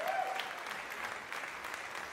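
Applause sound effect added during an online community awards gala, a steady wash of many hands clapping at moderate level, with no one talking over it.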